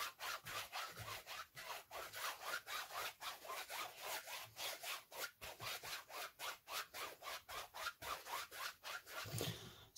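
A brush works thick oil paint into a textured canvas, scrubbing back and forth in fast, steady rhythmic strokes that give a close, rasping scratch repeated throughout with no talking.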